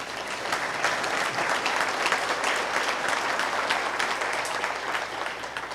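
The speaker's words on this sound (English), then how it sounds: "Let's give them one last round of applause." A crowd at a city State of the City address in Opelika gives a dense, steady round of applause for sponsors, loud and sustained throughout with no break.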